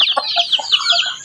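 Month-old chicks in a simple brooder cheep and peep in a steady, overlapping chorus of high, close calls, with no talk over them.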